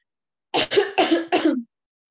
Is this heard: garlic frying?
no